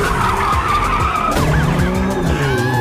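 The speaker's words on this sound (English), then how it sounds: "Noah was chased by the police because Mirage was traveling so fast" A speeding car fleeing a police chase screeches and skids, loud, continuous tire squeal rising and falling over a roaring engine, close and sustained throughout.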